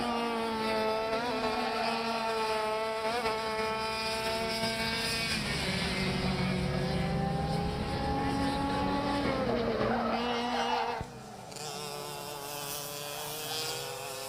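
Senior 125cc IAME karts racing around a track in a heat race, several two-stroke engines whining and buzzing loudly at close range, pitch rising and falling through the turns, one kart passing with a Doppler sweep before the roar thins.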